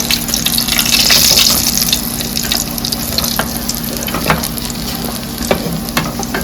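Sliced bitter gourd fries in hot oil with a loud, steady sizzle and bubbling hiss, along with a few faint stirring taps.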